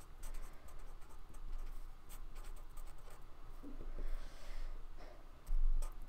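Pen scratching steadily across paper or a board while Ohm's law equations are written, a soft continuous scribble with small strokes and taps, quiet and close, with no voice over it.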